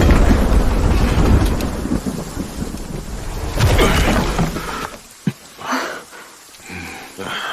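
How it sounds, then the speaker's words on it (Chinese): Heavy thunder crashes in an animated series, a loud rumbling roar with cracking bursts for several seconds before fading into scattered sharp impacts and quieter rumbles. "这是什么见鬼的雷声啊！ 连房子都震动起来了。"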